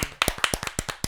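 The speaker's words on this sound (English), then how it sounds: "It sounds nice and loud with the applause." Podcast hosts clap their hands in a studio: around ten crisp, close claps in an uneven rhythm from a small group, loud and alone.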